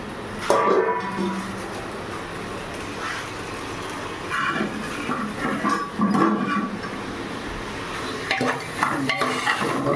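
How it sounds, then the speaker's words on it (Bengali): Chicken sizzles in a pan with scraping and stirring clatter from a spatula, close up, uneven bursts over a low background hiss. "ভেজে নিই একটু ভালো করে।"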